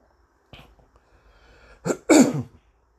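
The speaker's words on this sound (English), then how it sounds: "Trying to clear my throat here" A person clears their throat with a couple of rough, forceful bursts, close and fairly loud, after a faint short sound.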